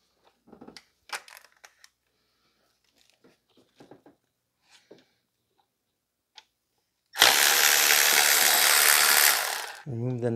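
A ratchet turns a bracket nut on a 2005 Toyota Corolla, making scattered sharp clicks and ticks at close range. A loud, steady, broadband rushing burst follows for a few seconds.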